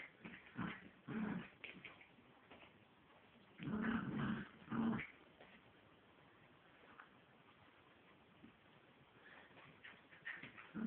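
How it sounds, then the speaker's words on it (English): A rat terrier and a chihuahua growl at each other in play, rough rumbling bursts in several clusters with softer whimpers and quiet gaps between. "You having fun playing with your big brother, Selena?"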